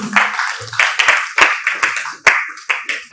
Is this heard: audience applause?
yes